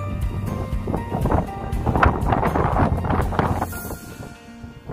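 Gusty wind blowing through a gritstone rocky outcrop on Bamford Edge, loud and buffeting close to the microphone with rumbling low gusts.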